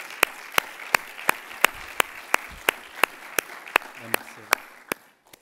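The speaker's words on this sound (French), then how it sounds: "Je pense qu'on peut les applaudir encore une fois." An audience applauds at an official conference session, with a dense, steady wash of clapping punctuated by sharp, evenly spaced claps before it fades out at the end.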